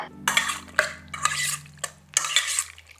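A sauce of toasted sesame oil is whisked in a bowl for yellowtail poke, with three close bursts of scraping and clinking utensil strokes separated by short pauses.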